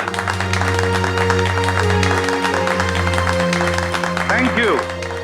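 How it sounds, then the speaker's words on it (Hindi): Crowd clapping at an anti-drug event welcoming police officers, a continuous dense patter under a droning musical background, with a rising sweep near the end. "तो कीजिए जोरदार तालियों से इनका स्वागत"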